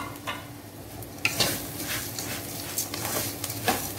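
Peppers and spices are stirred in a hot pan, the scrape of a utensil repeating irregularly over a steady close sizzle and frying crackle.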